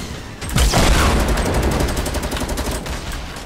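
A grenade launcher fires in the Fortnite video game, a loud near burst of rapid popping explosions that rattle on as a dense crackling barrage for a few seconds.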